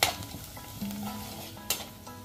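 Garlic, curry leaves, cumin, coriander, turmeric and salt sizzle in a pan for a village-style double beans gravy, with stirring scrapes and a couple of sharper clinks against the pan.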